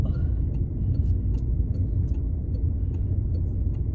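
A car engine rumbles steadily at close range as the car pulls away, a low continuous drone with faint clicks and no talking.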